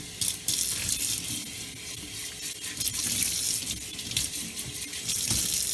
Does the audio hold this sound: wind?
no